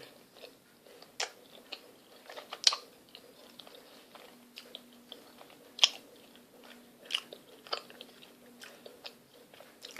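Someone chews a homemade peanut butter marshmallow puff, giving soft, irregular bites and crunchy mastication sounds close to the mic, with brief sharper clicks scattered across a quiet background and no talking.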